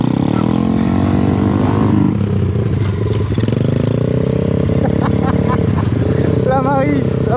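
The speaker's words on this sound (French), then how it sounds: "donc on part faire les courses en moto." A motorcycle engine drones steadily under loud French conversation while riders head out on a grocery run, with a clattering rev near the end.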